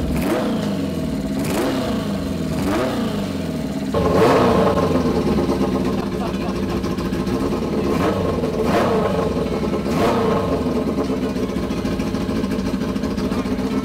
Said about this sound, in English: There is just something so satisfying about getting a bike started and hearing it run for the first time